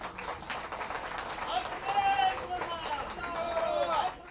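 Crowd applauding at a BJP political rally at a dhobi ghat in Delhi during the 2025 election, with steady dense clapping and crowd noise lasting several seconds, swelling midway.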